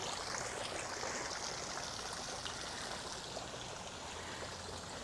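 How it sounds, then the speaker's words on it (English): Water trickles steadily and continuously from a pineapple-shaped garden water feature, close and moderately loud, with no other sounds. "here is the water feature"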